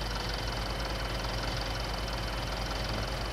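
In the video game Farming Simulator 19, the engine of a UTB 651M tractor runs at a steady idle, a continuous droning hum with a low rhythmic throb, alone and unchanging throughout.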